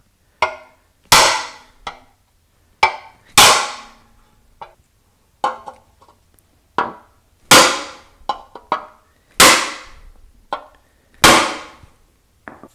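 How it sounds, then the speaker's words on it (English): Heavy hammer blows from a very big hammer strike an Oldsmobile 455 valve cover in loud ringing clangs, spaced irregularly with lighter taps between, close by with no talking. "extension that I basically use to whack things with now, and a very big hammer"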